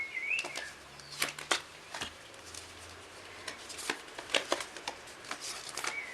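Tarot and oracle cards are being sorted into piles by hand, giving soft, irregular slaps and rubbing sounds as cards drop and slide, close up and fairly quiet, with no speech.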